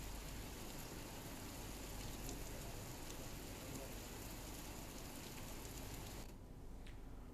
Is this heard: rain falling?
yes